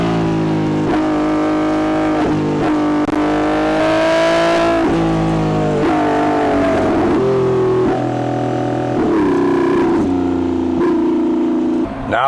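Lamborghini Revuelto with a 10,000 RPM redline revving hard and loud from inside the car, a shrill, motorcycle-like wail climbing and dropping through repeated pulls and shifts.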